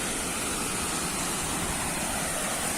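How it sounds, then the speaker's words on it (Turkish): Waterfall in Aladağlar National Park near Yahyalı, Kayseri, rushing as a steady, loud wash of falling water heard up close with no other sounds. "Kuruyanları saymazsak bu beşinci şelale oluyor"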